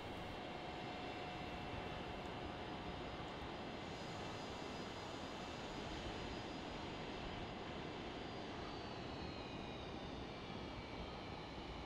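Aircraft engine in a flight simulator video game, a constant broadband roar with a thin steady whine, even and unbroken throughout with no talking.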